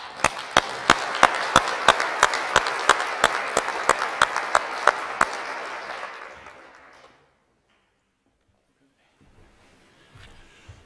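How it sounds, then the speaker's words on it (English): An audience at a conference session applauds its panelists, with a dense burst of clapping carrying strong regular beats for about six seconds before it fades into near silence, then faint room noise. "I think they deserve a big round of applause."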